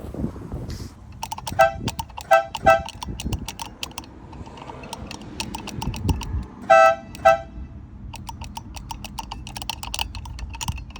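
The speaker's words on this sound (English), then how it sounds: "now we're gonna honk the horn" Several short honks from a Pontiac Firebird's horn sound in quick bursts, mixed with clicking and tinkering noises between them.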